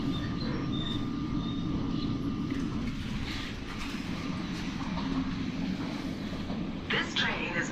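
Onboard a Class 458 electric train running toward London Waterloo, with a steady low rumble and a faint tonal whine throughout, plus brief rattles near the end.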